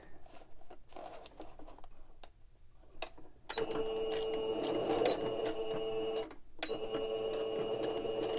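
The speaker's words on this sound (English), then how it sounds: "I'm going to sew around here so that the pocket's closed" A sewing machine stitches around a fabric pocket, with a few short clicks and bursts first, then a steady close whirring run that pauses briefly and resumes.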